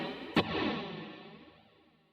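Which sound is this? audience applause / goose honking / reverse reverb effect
reverse reverb effect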